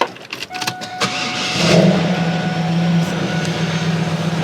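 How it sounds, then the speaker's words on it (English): A starter cranks briefly, then the LS1 V8 engine of a 1996 Pontiac Firebird Formula catches and settles into a steady, deep idle rumble close by. "I hoped you heard that initial exhaust note tone starting"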